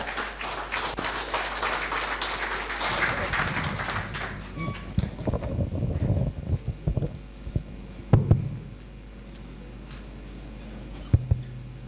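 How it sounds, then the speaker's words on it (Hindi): Audience applause at an OTP training program session in Silvassa: dense, steady clapping fills the first few seconds, then thins into scattered thuds and light handling noise. "वेलकम कमलेश सर, जोरदार तालियां"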